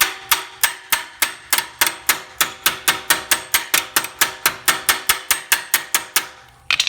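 A hammer strikes metal quickly and evenly to flatten the edge of a part during an IDF carburetor repair, landing about two dozen loud, close blows at a steady pace with no speech.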